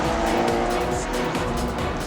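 Historic race cars, including a Porsche and a Lola, race on a circuit, with loud sustained engine roar and passing cars filling the scene continuously with no break.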